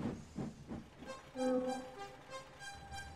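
Steam engine James groans as he crawls slowly around curves on the way down to the harbour, a drawn-out metallic tone with a hissing rail rumble, moderately loud with no voices.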